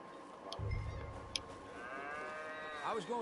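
Cows moo in Red Dead Redemption 2, one long low moo followed by rising, wavering calls, fairly close, over a quiet hum with faint clicks.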